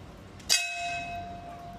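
A single bell is struck once and rings out clearly, its bright tone slowly fading over a quiet background.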